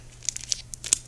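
Scissors cut open a plastic package in a quick series of sharp crinkling and snipping snaps, close and brief.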